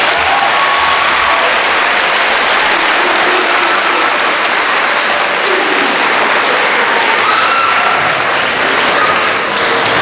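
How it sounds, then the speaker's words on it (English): A high school Black History Month assembly gives a long, dense round of applause for Leonard Floyd, a professional football player: a loud, unbroken roar of many hands clapping for ten seconds. "we had a big round of applause for Leonard Floyd"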